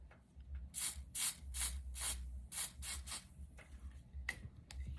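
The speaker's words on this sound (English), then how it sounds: "So what I'll do, I'm gonna spray it." A series of short, crisp bursts of hair product sprayed onto a wig unit, around a dozen in quick irregular succession, close and fairly quiet, with faint rustling between them.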